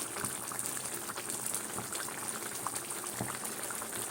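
Sliced onions sizzling in hot oil in a pan on low gas while a chicken curry is cooked, a steady close hiss and crackle that continues without pause, no talking.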